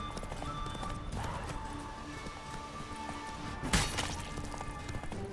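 Horse hooves clip-clopping steadily in the video game Witcher 3, a continuous trotting rhythm over ambient game sound, with a brief louder crash or thump partway through.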